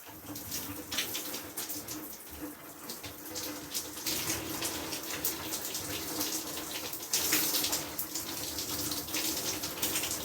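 Shower water running in a bathroom, a soft continuous hiss and patter of spray with slight surges, fairly faint and steady throughout, no speech.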